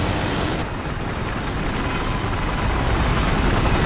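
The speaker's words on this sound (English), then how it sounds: "I can bring the chopper down for some support." A helicopter in the Battlefield 4 video game, with a steady broadband rotor and engine roar that stays loud and even for the whole stretch and no voices over it.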